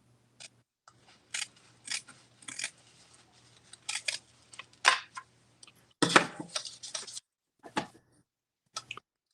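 Scissors trim fabric lining for a zip-around wallet in short bursts of crisp snipping and cutting, close and clear against near silence, with several separate cuts spread unevenly.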